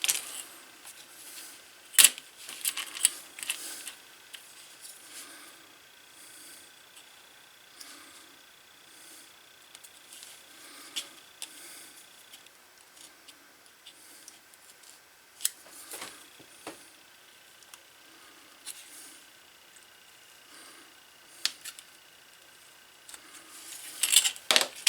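Blade cutting through a leather holster buckle strap for a 1940 Luger, scattered soft crunching slices and small clicks, close and fairly quiet, with a burst of sharper cuts at the end.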